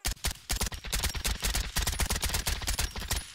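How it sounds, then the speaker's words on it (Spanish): Rapid gunfire in the video game Aftermath, a dense run of loud, close shots in quick succession like automatic fire, continuing steadily throughout with no talking over it. "¡Disparo!"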